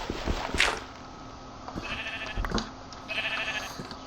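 Sheep bleat in Minecraft, a few short nasal calls spread over four seconds against a steady game background, clear and close with no voices.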